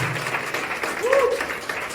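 Applause from a church congregation at a Mother's Day service, a steady broadband wash of clapping that runs the full length with a voice briefly rising over it.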